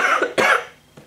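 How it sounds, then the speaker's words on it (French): A woman coughs twice in quick succession, close and fairly loud, with a fainter third cough trailing at the end. "je suis vraiment désolée, c'est hyper désagréable de tousser comme ça"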